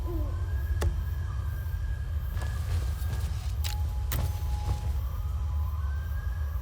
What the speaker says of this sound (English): Is that that's a cacaws or macaws? I don't know what bird that is or animal that is, but beautiful sound effects.